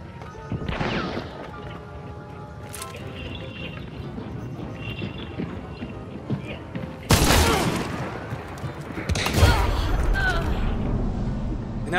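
Gunshots from outside, as if fired from a roof, in a video game: bursts of loud gunfire and crashing impacts, with quieter game sounds and a voice talking in between.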